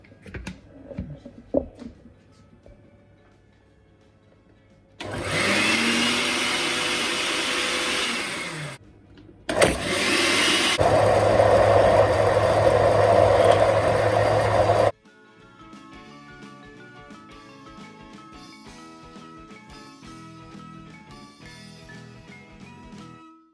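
A kitchen blender whirs through pesto sauce with salt and lemon juice in two loud, steady bursts, separated by a short pause, then settles into a quieter hum.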